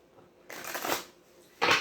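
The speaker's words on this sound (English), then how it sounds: "I'll do one more shuffle," Two bursts of tarot cards being riffled and shuffled, a longer crisp flutter followed by a short quick one, close up with quiet pauses.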